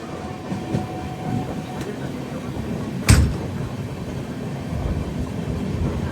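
The Kacheguda Weekly Express rolls steadily along the rails near Kacheguda, a continuous rumble heard from inside the train with a sharp clank partway through and faint clickety-clack.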